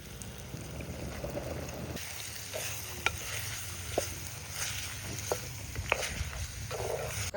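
Mutton pieces tossed into a pan over onions, mint, turmeric and ginger give a steady frying sizzle with intermittent sharp spatula clicks and stirring scrapes throughout, no speech.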